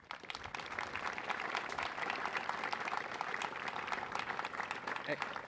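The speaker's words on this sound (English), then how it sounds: "So please give Dana another round of applause." Soldiers and guests at an Army victory ceremony with honors at Fort Riley, Kansas, give a steady round of applause, dense rapid clapping heard from a distance and fairly faint.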